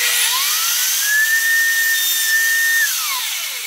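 A wood router cutting templates gives a loud, high electric whine that rises in pitch as it spins up, holds steady while cutting, then winds down, heard alone and up close.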